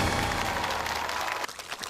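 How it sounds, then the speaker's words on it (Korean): Church members at Cheonjeong Palace cheering and applauding as True Mother enters, a dense, continuous wash of clapping from a large crowd that thins slightly near the end. "식구들의 열렬한 환호 속에서 참어머님께서 입장하셨습니다"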